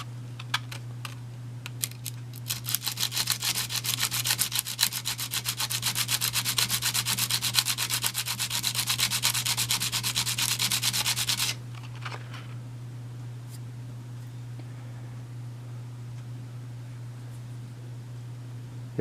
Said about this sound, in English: But I think I can work the rest out with the sander.